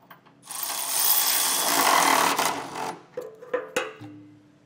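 Power tool fitted with a 3/4 inch socket spinning bolts while installing a trailer hitch receiver on a 2022 Chevrolet Traverse, a loud sustained whir for about two seconds followed by several short bursts.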